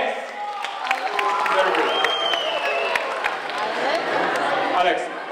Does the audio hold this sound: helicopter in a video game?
no